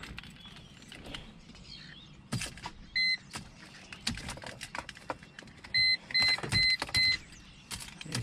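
A cheap used Mercedes with a weak battery is tried for a crank: key and switch clicks, a few brief strained electric whirs, and repeated dashboard warning chimes inside the car, with no speech.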